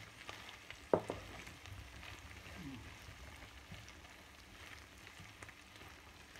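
Corned beef fries in oil with a soft, faint sizzle while being stirred, a sharp clank of a utensil against the pan early on, and quiet voices now and then.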